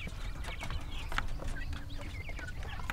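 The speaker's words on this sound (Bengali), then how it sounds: "আর এগুলো হচ্ছে জাপানিজ কোয়েল, যেগুলো ডিমের জন্য বিখ্যাত।" Several Japanese quails, a breed kept for eggs, call in short chirping bursts over a steady low background hum, the small birds fairly close and busy throughout.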